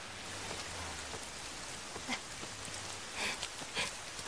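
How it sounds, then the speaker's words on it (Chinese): Rain falls steadily, a soft even hiss with a few scattered sharper drips, faint and continuous with no one speaking. "下雨了。"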